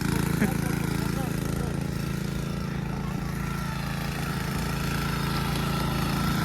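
A tractor ploughs already-tilled soil on a groundnut farm in Konkan, its engine a steady, fairly loud drone that carries without a break through the whole stretch.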